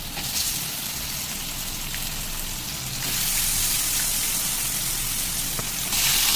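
Tap water runs steadily over chicken liver, both gizzard and liver pieces, as they are washed, a continuous broadband splashing hiss that grows a little louder partway through, with no talking.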